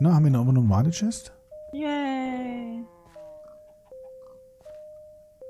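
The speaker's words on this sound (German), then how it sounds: "Das ist eine Klingel." Minecraft doorbell chime: sustained electronic tones that step between pitches for several seconds, sounding fairly soft right after a burst of excited speech.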